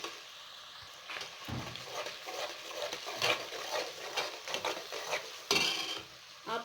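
Sliced tomato, pepper, vegetables and rice frying in a pot, soft sizzling under repeated stirring scrapes and light clinks of a utensil against the pot, close and steady.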